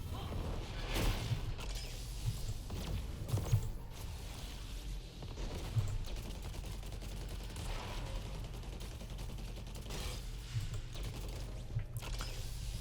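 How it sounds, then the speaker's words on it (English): Rapid gunfire from a Gatling cannon in the video game Heroes of the Storm, a steady dense rattle running throughout with brief heavier bursts, set in a busy game mix with no talk. "whenever you're firing your, what is it, Gatling cannon, it actually has charges up here"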